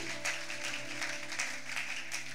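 A church congregation applauds the Lord together during a worship service, a steady wash of clapping held evenly from start to finish over a sustained musical tone.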